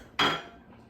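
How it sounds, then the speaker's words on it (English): A frying pan set down on a stovetop burner to cook burgers gives one sharp metallic clank, then a short ringing decay and quiet room tone. "I'm gonna put my pan on medium here"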